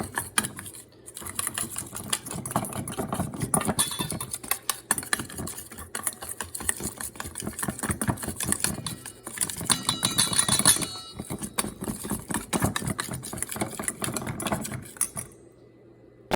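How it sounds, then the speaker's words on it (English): A whisk beats a salad dressing for a quinoa salad with chickpeas, cucumber, tomatoes and feta, making a rapid, busy run of close clicks and rattles that carries on steadily and then cuts off near the end. "we still have to whisk this dressing here"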